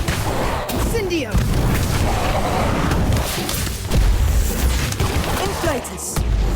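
An Incendio fire spell is cast in the Harry Potter: Magic Awakened video game, giving a loud, dense whooshing burst with booming impacts and crackle that runs on throughout, layered with game effects and some voice.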